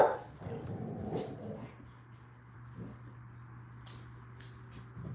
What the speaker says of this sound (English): You heard the dogs.